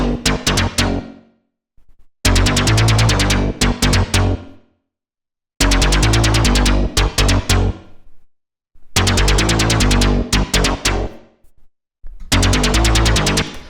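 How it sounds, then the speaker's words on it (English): A buzzy acid bass synth loop plays in repeated bursts of rapid pulsing notes, separated by short silent gaps, loud and alone with no voices. "The first sound that we've got going on here is this acid bass"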